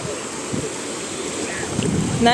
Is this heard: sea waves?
yes